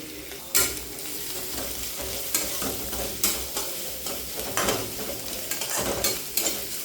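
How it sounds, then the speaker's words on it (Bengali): Chopped carrots fry lightly in a pan over low flame, a continuous sizzle broken by repeated scraping and stirring strokes of a spatula, close and clear. "হালকা করে ভাজতে হবে।"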